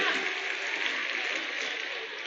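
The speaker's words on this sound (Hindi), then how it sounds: "एक बार पुरजोर तालियां बजाएं जनाबे शंकर कैमूरी साहब के लिए" Audience applause at an Urdu poetry gathering, a steady wash of clapping from many hands, fairly loud and even, tapering slightly toward the end.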